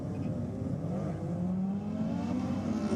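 Two rally-style race cars, a Mitsubishi Lancer and a Subaru WRX, launch from a start line with a steady, loud engine drone that climbs gradually in pitch as they accelerate away.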